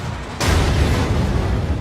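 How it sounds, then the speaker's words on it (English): A nuclear reactor explosion sounds as a sudden loud boom after a short quiet moment, then a sustained dense roaring rumble with no voices. "1:23:45, explosion."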